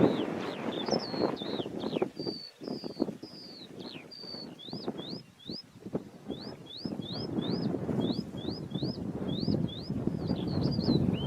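Strong wind on the cliff top at Beachy Head buffets the microphone in gusty, uneven bursts, while a bird chirps repeatedly in short, high tweets above the blustery noise.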